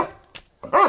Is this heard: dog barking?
yes